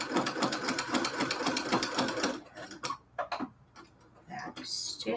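A sewing machine back-stitches on cathedral window quilt curtains with a quick, regular ticking chatter for a couple of seconds, then stops to sporadic clicks and handling. A voice talks over part of it.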